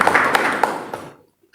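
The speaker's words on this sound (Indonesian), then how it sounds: "Berikan tepuk tangan." A congregation at a church fasting prayer gathering breaks into a short burst of clapping that fades out within about a second.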